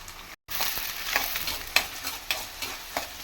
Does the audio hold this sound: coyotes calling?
no